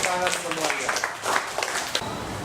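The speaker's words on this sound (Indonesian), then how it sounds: "Bagus, tepuk tangan semuanya." Students in a classroom clapping together in a dense burst of applause, close and fairly loud, with a voice speaking over it.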